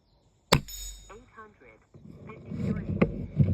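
A single sharp air rifle shot firing 20-grain pellets at an outdoor range, a loud close crack followed by someone speaking and wind noise.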